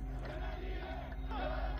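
Dense crowd at a mass protest demonstration in Tunis, a continuous roar of many voices shouting together, loud and close throughout.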